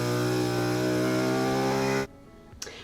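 MagicVac Maxima 2 vacuum sealer pumping air out of a canister through its hose, a steady droning motor hum that stops abruptly, followed by a short hiss of release.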